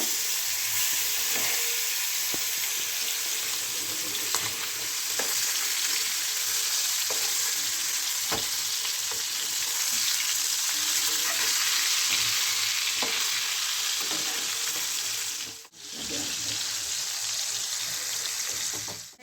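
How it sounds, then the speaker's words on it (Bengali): Fish pieces frying in hot oil until golden, a loud continuous sizzle with scattered crackles and pops, close up and uninterrupted apart from a brief dip near the end. "এক পিস করে হয়ে গেছে গোল্ডেন গোল্ডেন কালারে ভেজে নেব"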